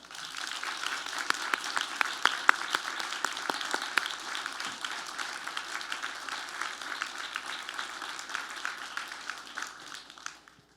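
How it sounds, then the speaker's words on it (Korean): At a nursing academy graduation and commissioning ceremony, a large indoor audience claps steadily for about ten seconds, a dense, even patter heard from a distance that thins slightly at the end. "우리 모두 졸업생들을 축하하고 격려하는 의미에서 큰 박수를 부탁드립니다"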